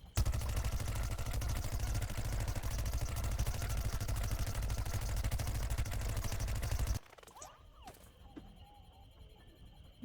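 Rapid, steady stream of Pea Gatling shots fired in Plants vs Zombies Garden Warfare 2, a dense mechanical rattle lasting about seven seconds before cutting off abruptly to near silence.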